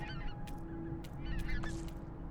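A pink-footed goose in breeding plumage honks repeatedly in the Arctic, its nasal calls fairly close and clear over a steady low background.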